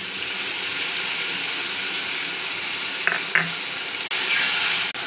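Ginger and tomato paste with cumin, coriander, chilli and turmeric powders sizzling steadily in a hot pan, a continuous close frying hiss with a couple of brief stirring clinks near the end and no talk.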